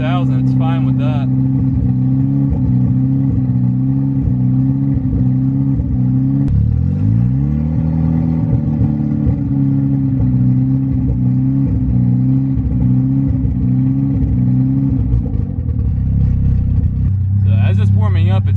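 An MK6 Golf R engine runs close by, with a fluttering, uneven idle that surges up into a rev, settles and wavers again as it warms, and someone speaks briefly at the start and end.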